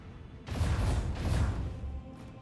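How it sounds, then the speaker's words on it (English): Heavy booming macro cannon fire from a starship in the video game Warhammer 40k: Rogue Trader, two loud rumbling blasts in quick succession over a constant low drone, ending in a fading roar. "Macro cannons, open fire!"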